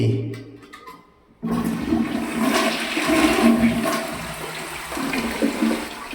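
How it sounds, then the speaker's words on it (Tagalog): A toilet in a newly built construction project's water closet flushes loudly after a brief quiet moment, with a rushing gush of water that swirls and continues draining for several seconds, close up with no talk. "Check din po natin ang kanilang water closet."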